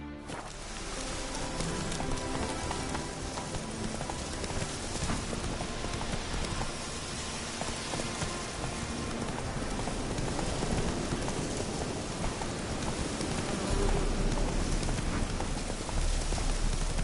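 Hooves of Roach, the horse in The Witcher video game, clip-clop in a steady running rhythm under a continuous rain-like wash, with no talking.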